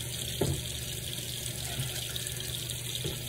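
A bathroom tap runs steadily at low volume while a face is dampened at the start of a skincare routine, with a few faint splashes and no talking.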